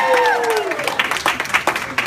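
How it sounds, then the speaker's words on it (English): Applause for the 838 crew during a best man speech at a wedding: a room of guests clapping, with a few cheers and whoops rising over the start, then steady scattered clapping throughout. "Give the gentleman at 838 a round of applause."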